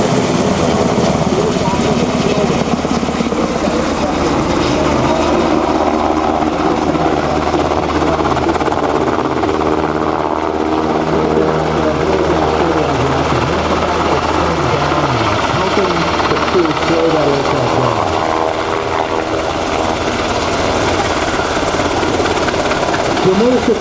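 UH-60L Black Hawk helicopter flying a demonstration at an airshow-style rotorcraft event, its steady rotor and engine roar loud and continuous throughout, with a person talking over it.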